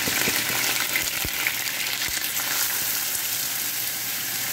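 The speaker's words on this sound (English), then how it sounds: "I'm going to cook the onions." Three medium chopped onions are cooking in oil for a green chili chicken rendang. A broad, even sizzle holds at moderate volume throughout, with a few soft taps, and no talk.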